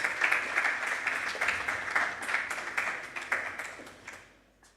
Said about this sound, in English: With a round of applause, please let's welcome Dr. Irene Apianin-Addo.